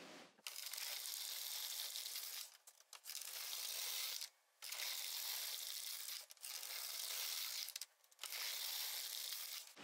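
An LK150 knitting machine works rows of plain stitches, its carriage giving a raspy mechanical ratcheting swipe with each pass, about five strokes separated by short pauses, close and clear.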